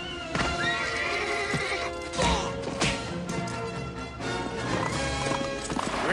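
A horse in an animated film gallops with rhythmic hoofbeats, whinnies, and sharp crashes and thwacks amid a busy, music-backed action scene; the sound is fairly close and at moderate level.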